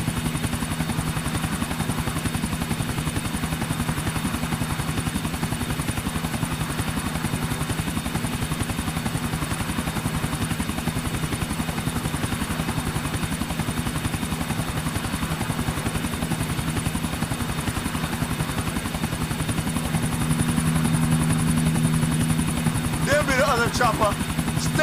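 A helicopter flies in the video game Grand Theft Auto, its steady rotor thrum and engine buzz droning loud and constant for the whole stretch with no break.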